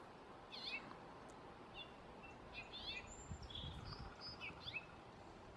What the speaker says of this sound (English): Pretty simple little chirps.